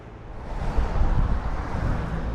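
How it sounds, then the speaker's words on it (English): Strong wind roars across the microphone during an evening group cycle club ride, a loud, continuous gusting rush with no voices. "Hopefully you can hear me for the wind. It's very windy tonight."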